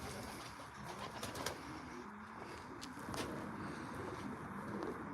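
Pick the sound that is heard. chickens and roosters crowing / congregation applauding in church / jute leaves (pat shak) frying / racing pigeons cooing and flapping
racing pigeons cooing and flapping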